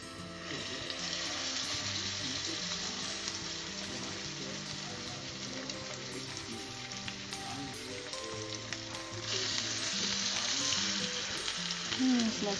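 Chicken thighs fry skin side down in a smoky-hot skillet, a loud continuous sizzle and crackle that holds steady and swells louder near the end.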